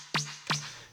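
Two punchy drum hits from an Elektron Analog Rytm drum machine, a sample reshaped with parameter locks on a single step, each a sharp bright attack dropping into a low sustained tone, clear and alone.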